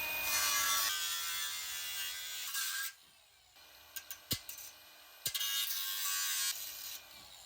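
A power tool buzzes and rasps while cutting the plastic wing off a Toyota Tacoma front bumper for a CBI bumper install. A few seconds of close, steady cutting noise give way to quiet, scattered clicks and knocks.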